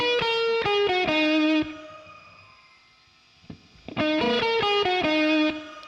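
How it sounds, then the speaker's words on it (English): Electric guitar through a NUX Verb Core Deluxe pedal set to shimmer reverb, sounding two bursts of strummed, sustained chords with a glassy, octave-up wash trailing behind and fading into a quiet tail between them, loud and alone. "That glassy tone that you're hearing right behind is the amount of simmer that's coming."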